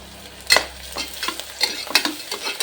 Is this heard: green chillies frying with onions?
yes